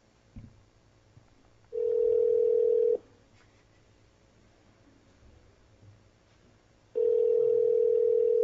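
A telephone line sounds while a call is placed: two long, steady electronic tone bursts separated by a few seconds of quiet line noise, clear and close.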